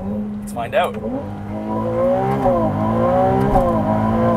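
A 2023 Ferrari 296 GTB hybrid supercar with its engine at the back accelerates hard, its engine note climbing in pitch through the gears and staying close and loud after a brief spoken remark.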